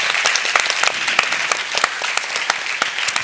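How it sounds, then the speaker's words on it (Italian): Dense applause from an audience at an evening award ceremony, many hands clapping steadily and loudly throughout with sharp individual claps standing out. "Quindi un applauso intanto è dedicato a loro."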